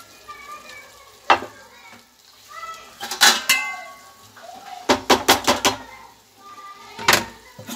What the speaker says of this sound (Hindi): अब हम इन चावलों को पलटेंगे, ऐसे पलटेंगे,